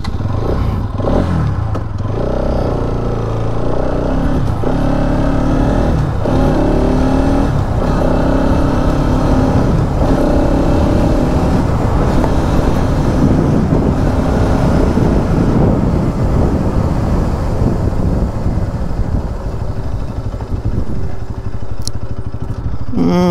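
A 2025 Bajaj Pulsar NS200 single-ABS motorcycle riding along a rough road, its engine droning loud and close throughout with shifting revs and wind buffeting, unbroken by talk.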